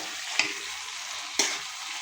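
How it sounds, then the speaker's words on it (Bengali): Chopped tomatoes tip into spices frying in a pan for a Bengali beef head bhuna, giving a steady close sizzle with two sharp splashy bursts as pieces land. "টমেটোগুলো ঢেলে দিলাম।"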